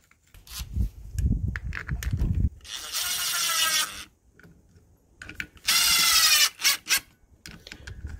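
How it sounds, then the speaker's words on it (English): Clutch cover bolts on a CR85R motorcycle are tightened with a ratchet, producing two sustained metallic ratcheting bursts between scattered handling clicks and clanks, fairly close and loud. "you just want to tighten them down a bit at a time so nothing binds"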